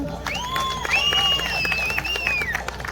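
A crowd at a Mother's Day contest applauds a contestant with dense, loud clapping. Whistles and cheering voices rise above the clapping throughout.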